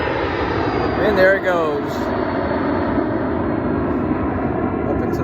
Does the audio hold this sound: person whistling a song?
no